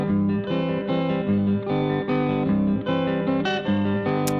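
Strummed guitar chords with a lo-fi phone-recorded character, played as a steady rocking rhythm of repeated chord hits, sustained and fairly loud, with effects-like coloring and no voices.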